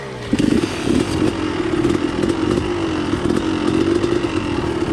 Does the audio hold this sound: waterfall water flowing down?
no